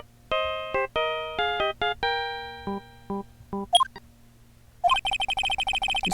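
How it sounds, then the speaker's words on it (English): A phone ringtone playing a video game theme: a bright, chiming synth melody of evenly spaced notes, then a buzzy, rapidly pulsing ring tone, loud and close, with no voices. "I know that song your phone plays when it rings."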